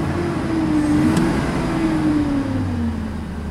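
A GM truck engine running rough with a misfire is revved, giving a steady, loud, uneven drone whose pitch rises slightly and then sags, with no talking over it.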